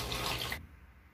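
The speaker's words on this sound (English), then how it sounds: "I'm gonna add some water to this stuff." Tap water pours into a cooking mixture with grated garlic: a loud, close, hissing rush that lasts about half a second and then cuts off abruptly, leaving only quiet room tone.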